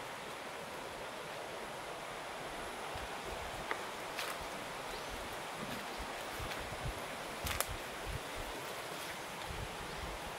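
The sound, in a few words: strong wind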